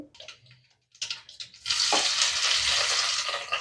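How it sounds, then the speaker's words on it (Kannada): Mustard seeds and cumin tempering in a little hot oil for aloo bonda, a few short crackles and pops that build into a loud, steady close sizzle. "ಸಾಸಿವೆ ಮತ್ತೆ ಜೀರಿಗೆ, ಸ್ವಲ್ಪ ಎಣ್ಣೆ ಹಾಕೊಂಡಿದೀವಿ."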